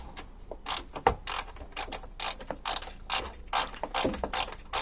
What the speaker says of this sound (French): il faut enlever cette vis là avec une douille de 10